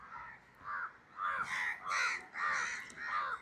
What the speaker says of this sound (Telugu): ఇగ్నోర్ ద కాకి గోలా గాయస్.